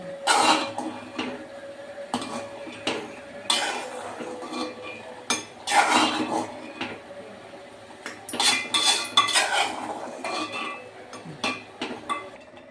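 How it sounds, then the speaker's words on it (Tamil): A ladle stirs sweet pongal in a pot, scraping and clinking against the metal in repeated close, irregular strokes with short quiet gaps between them. "கரண்டி வச்சு நல்லா கிண்டி விட்டுக்கோங்க."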